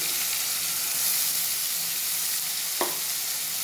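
Onions hit a hot pan for a brinjal and coconut curry, giving a continuous close hissing sizzle with one short clink near the end and no talking.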